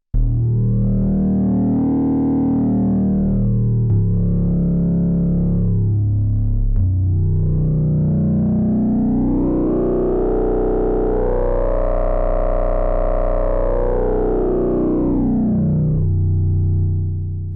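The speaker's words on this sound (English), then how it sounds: "So here's a bass sound with a sort of sweep." A loud, buzzy bass note from a Make Noise 0-Coast synthesizer with a resonant filter sweeping slowly up and down, sustained for several seconds before settling lower.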